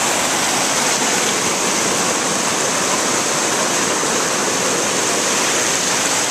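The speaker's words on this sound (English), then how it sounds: "Sitting right by the river." A river flows past the bank where someone sits, a loud, steady, unbroken rush of water close by with no talk over it.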